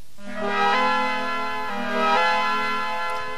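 Suzuki Omnichord OM-84 from 1984 strummed upward across its strings to mimic a steel guitar, two bright sliding chord swells ringing out alone with sustained harmonic tones.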